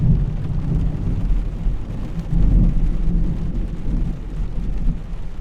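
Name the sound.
thunder during overnight rain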